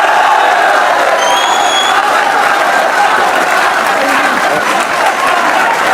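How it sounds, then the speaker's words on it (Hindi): Crowd applause and cheering for Babar following an India versus Pakistan cricket match, loud continuous clapping mixed with shouts and whoops from many people, steady throughout six seconds. "और अहमद भाई की तरफ से बाबर के लिए तालियां होनी चाहिए"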